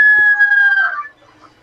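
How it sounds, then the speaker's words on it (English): A rooster crowing in The Gambia, one loud, drawn-out call close by that tapers off, followed by faint background noise. "Was that a rooster?"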